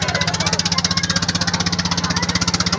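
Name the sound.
ferry engine running before departure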